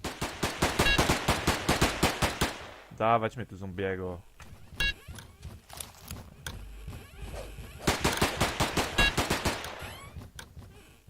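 Rapid bursts of automatic gunfire in the video game Of Guards And Thieves rattle loudly at the start and end, with someone talking and mechanical clanks in the quieter middle stretch.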